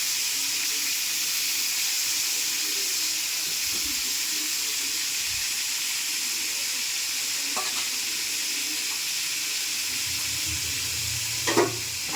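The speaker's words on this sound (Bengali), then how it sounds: "তেলটা একটু গরম হয়ে আসলে এবার একে একে পটলগুলা দিয়ে দেব।" Pointed gourd (potol) frying in hot oil, a steady, even sizzle that holds throughout with a few faint clinks and a brief knock near the end.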